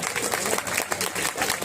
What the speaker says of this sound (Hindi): एक बार इनके लिए भरपूर तालियां